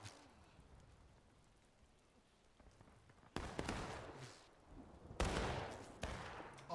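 Musket volley fire in the Civil War game War of Rights: two loud, crackling bursts of massed musket shots ring out, the second after a short pause, against quieter distant battle noise.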